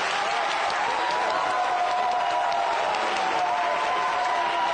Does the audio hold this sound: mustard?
no